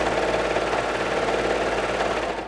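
A sewing machine runs a half-inch seam on a cozy wrap garment, giving a steady, close, continuous mechanical whir with a fine rapid stitching rhythm and no voices.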